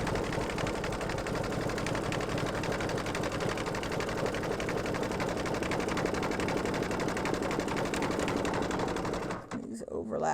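An embroidery machine sews a back-and-forth bean stitch on a mug rug with a fast, even, close mechanical rattle that runs continuously, then stops abruptly near the end.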